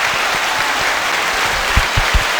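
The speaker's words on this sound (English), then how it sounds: "Let's give a round of applause for Versè." Studio applause on a podcast for a guest named Versè, a loud, full burst of clapping with some heavy low thumps near the end, steady and close.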